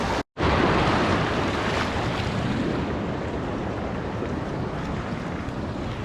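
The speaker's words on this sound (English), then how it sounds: "Okay, so we are now going to cross the river." River water rushes and splashes steadily as someone wades across a river on a hike up Mount Roraima in Venezuela, a loud, continuous broadband wash close to the microphone with wind buffeting, no talking.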